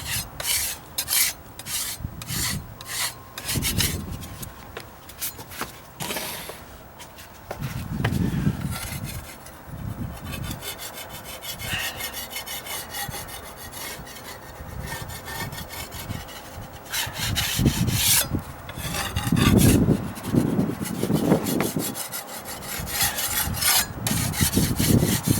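A scraper works lightly over a dried repair on wooden deck stairs, giving close, rasping scrapes in quick irregular strokes with brief pauses between passes and no voices.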